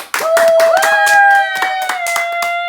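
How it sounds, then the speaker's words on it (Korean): About nine hand claps in a quick, fairly even rhythm, ringing close and loud over a sustained, wavering tone. "박수 한 번"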